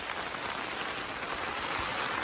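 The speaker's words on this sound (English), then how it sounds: "Cold, very cold, windy rain pouring down." Dense, steady hiss of cold, windy, heavy rain pouring down on the Te Araroa trail, continuous and fairly close, with no voices.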